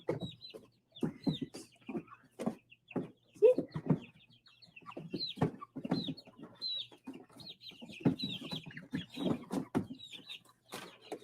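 Baby chickens cluck and peep in short, frequent calls indoors, close and fairly soft, with a few brief chirps scattered throughout.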